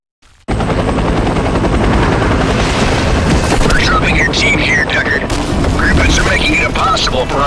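Military helicopters in a video game thunder steadily after an abrupt start, a loud continuous rotor roar layered with bursts of distant gunfire and explosions throughout.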